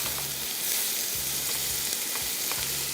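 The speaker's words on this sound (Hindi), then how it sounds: "सबसे पहला काम प्याज की फ्राइंग।" Onions frying in oil give off a loud, steady, dense sizzle that stays unbroken throughout, with a low rhythmic bubbling pulse beneath it.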